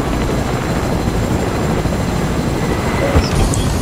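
A steady, loud Fortnite helicopter rotor drone with a constant whirring roar, continuous throughout with no voices.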